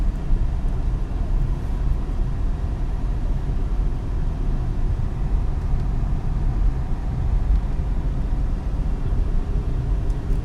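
A Renault Kiger with an AMT gearbox driving uphill at high RPM, giving a steady, continuous engine drone with road rumble inside the cabin, no speech.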